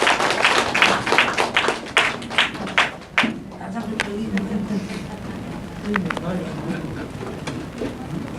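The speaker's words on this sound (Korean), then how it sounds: "힘찬 박수 부탁드립니다" An audience claps after a lecture at a Korean political party event, with a burst of scattered, fairly close claps in the opening seconds that thins out while a voice talks over it.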